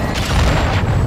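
A heavy, rumbling boom from an artillery fire mission impact in a video game rolls on loud and sustained for about a second.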